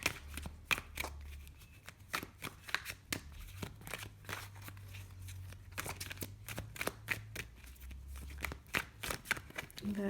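Tarot deck shuffled and cards drawn during a love reading, with a rapid, irregular run of crisp slaps and riffles close up, a faint low hum underneath and no speech.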